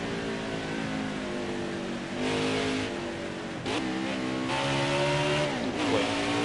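Cup car racing video game at Watkins Glen, engine droning and revving steadily, then a couple of downshifts with quick pitch drops before climbing again under throttle.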